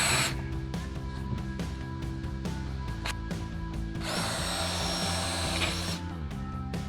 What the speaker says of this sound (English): Well, here's Candace working finally with the gender neutral cordless drill.